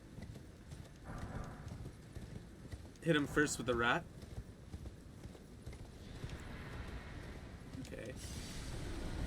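Horse hooves clip-clopping in the video game Elden Ring, a steady trot under background game sounds, with someone speaking briefly in the middle.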